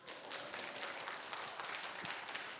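A congregation in a Korean church applauds during a Sunday afternoon praise service, with dense steady clapping that is quiet and distant and lasts throughout.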